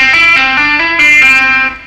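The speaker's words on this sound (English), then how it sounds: "another legato lick that I use involves some sliding with your first finger" Distorted electric guitar playing a rock legato lick of hammer-ons, pull-offs and first-finger slides, a fluid run of rapid connected notes with audible pitch glides, loud and close with no talking.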